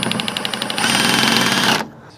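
A small piece of wooden window timber being cut off during a rotten window repair: a buzzing, rapidly pulsing power-tool cut that grows louder and steadier before stopping abruptly near the end.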